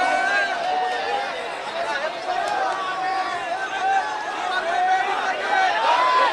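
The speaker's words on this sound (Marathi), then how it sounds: "या ठिकाणी गर्दी खूप आहे." A large crowd at a Maratha reservation rally with Chief Minister Eknath Shinde and Manoj Jarange Patil fills the air with steady, dense chatter and shouting voices, loud and continuous throughout.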